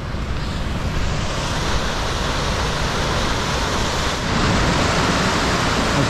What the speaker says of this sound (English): The water's probably quite loud.